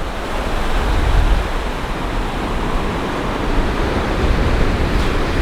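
Surf at Benaulim Beach in South Goa rolls in a loud, continuous wash of breaking waves with some wind buffeting the microphone, and no voices over it.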